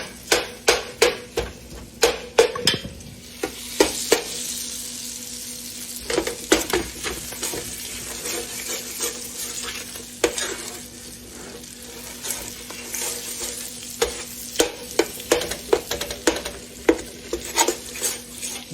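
Butter melts in a pot for caramel cake icing while a spoon stirs constantly, giving rapid, sharp clinks and scrapes against the metal over a soft, steady sizzle, close and busy throughout.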